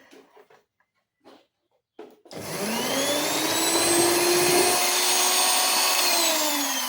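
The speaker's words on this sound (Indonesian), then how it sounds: "mixer ya dengan kecepatan pelan dulu ya" An electric hand mixer starts at low speed in steamed sponge cake batter, a few faint clicks and handling noises before a sudden loud, steady whine takes over and runs to the end.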